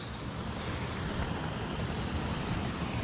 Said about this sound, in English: A bit of water running off of here. Snow melt.